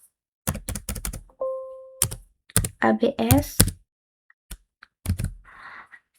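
A computer keyboard typed in short bursts of clicks, close and fairly crisp, with a voice speaking briefly between the keystrokes.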